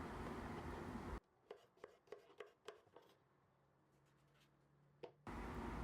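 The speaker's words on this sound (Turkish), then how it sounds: "Küp halinde doğruyorum." A knife dices zucchini into cubes, making a quick run of sharp, close chops on a board that fades into quiet, with one last chop near the end and louder room noise before and after.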